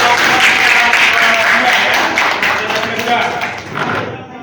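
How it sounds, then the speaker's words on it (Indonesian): An audience in a teacher-training classroom session claps for a presenting group, a dense, loud burst of applause that fades toward the end. "Ya, kita kasih aplaus dulu untuk"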